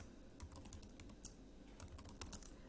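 Quiet, close tapping on a computer keyboard, an irregular stream of light clicks and occasional sharper keystrokes, with no voices.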